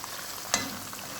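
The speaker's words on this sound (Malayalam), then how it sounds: "ലോ ഫ്ലെയിമിലിട്ടിട്ട് വറുത്തെടുക്കണം, അല്ലെങ്കിൽ ഇതിൻ്റെ ഉള്ളിൽ വേവില്ല" Chicken pieces fry over a low flame in oil for homemade KFC-style chicken, a soft steady sizzle with one sharp crackle partway through.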